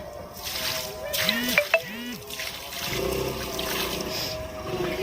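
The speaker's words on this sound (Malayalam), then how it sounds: "കുറച്ച് വെള്ളം വേപ്പിന് ഒഴിക്കാം" Water trickles and splashes onto the ground near a neem plant, steady and close, with a couple of brief chirping tones and faint background noise.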